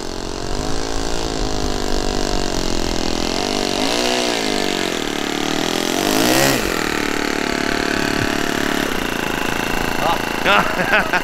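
Small engine of a Flair Magnatilla model plane buzzing steadily as the aircraft taxis back across the ground, pitch wavering up and down with the throttle, under the pilot's voice.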